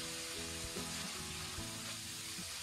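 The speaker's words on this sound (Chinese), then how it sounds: "我们再快速的翻炒均匀" Small river shrimp are stir-fried in a wok, giving a loud continuous sizzle with rhythmic scraping and tossing strokes of the spatula, close up and with no talk.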